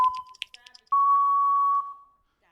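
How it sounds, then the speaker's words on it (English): A game show buzzer sounds on a live broadcast quiz: a few short electronic bleeps, then one long, steady, loud tone held for about a second before cutting off. "You can keep trying to answer after the buzzer."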